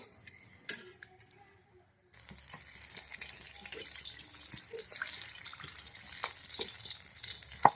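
Hot oil sizzles and crackles steadily after a quiet start as slit green chilies fry, with a few soft clinks and stirring sounds close by.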